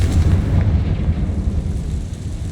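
Confringo fire-blast spell detonating in Hogwarts Legacy, a loud deep boom with a rumbling low-end roll that slowly fades, alone without voices.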